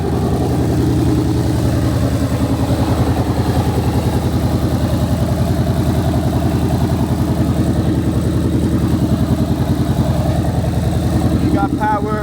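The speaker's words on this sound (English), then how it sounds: "I can hear a little bit of the exhaust leak" A project car's engine idles steadily with a slight exhaust leak, a continuous, close, loud rumble with a faint ticking edge, and voices talk briefly over it near the end.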